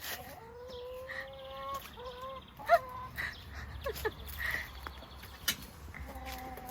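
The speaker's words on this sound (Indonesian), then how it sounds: "Ayamnya nggak mau masuk, malah keluar semua." Chickens cluck and chirp in bursts around a farmyard chicken coop in France, with buzzing insects and scattered clattering noises in the background.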